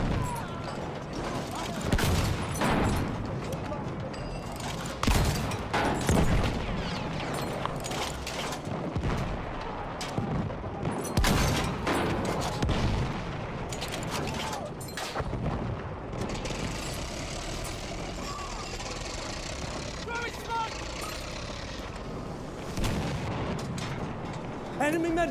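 Tank cannon and artillery fire in the video game Battlefield 1, a light tank in battle: repeated loud booms and gunfire bursts over rumbling engine noise and clanking, with shouted voices mixed in.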